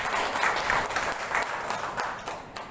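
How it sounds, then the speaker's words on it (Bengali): An audience at an indoor organisational meeting claps in a soft, scattered burst of applause that carries on steadily and fairly faintly, with no voices over it. "একটু হাততালি নেব।"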